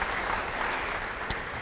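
A church congregation applauds during a sermon, a steady wash of many hands clapping at moderate distance, with one sharper knock near the end.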